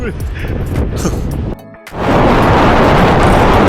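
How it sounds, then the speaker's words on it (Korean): Heavy sea swells around two metres high crash against a bridge in strong wind, a loud roaring wash that drops out briefly before surging back in a dense, continuous rush. "이렇게 2m 정도 되는 파도가 치기는 처음이에요"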